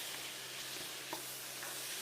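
Chicken browns in a frying pan with a steady, close sizzle of hot oil and occasional soft stirring sounds, running evenly throughout with no talking.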